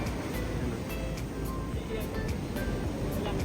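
Strong surf rolls in at Tibu Tidal Pool in Casiguran, Aurora, a continuous loud wash of breaking waves with faint sharp ticks throughout and no clear speech.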